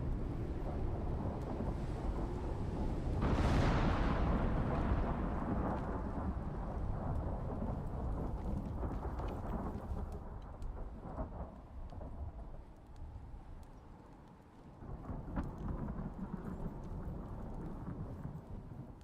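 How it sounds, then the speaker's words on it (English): Thunderstorm in the survival game Icarus, with a loud crack of thunder rolling into a long rumble early on, then steady rain and wind hiss continuing throughout, with a few fainter distant rumbles later. "we got quite the storm going on"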